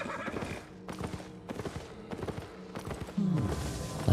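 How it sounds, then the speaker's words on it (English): A horse in a video game whinnies and neighs while hooves clip-clop in short bursts, with a louder, nearer whinny at the end. "I just heard another horse."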